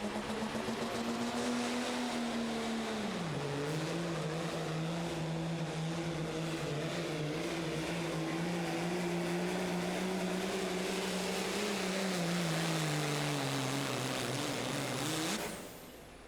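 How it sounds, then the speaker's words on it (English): Pro Street diesel pickup pulling a sled at a truck pull in Terre Haute, Indiana, engine roaring loud and sustained for about fifteen seconds, pitch dipping and holding under strain before cutting off abruptly. "The just getting started truck is hooked up to the sled here in our Pro Street Diesel Truck category"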